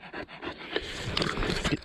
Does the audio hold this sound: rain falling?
no